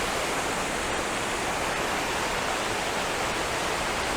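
A loud waterfall running high with lots of water: a dense, steady, broadband roar of rushing water, constant and close, with no voices.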